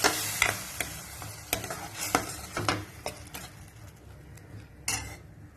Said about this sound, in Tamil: தக்காளி பேஸ்ட்டை ஆட் பண்ணிவிடுவோம். அதை நல்லா கிளறி விட்டுக்கலாம்.